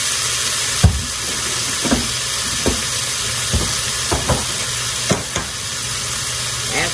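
Minced garlic sizzles with onions in a hot pan, giving a steady frying hiss throughout with scattered soft clinks and stirring knocks.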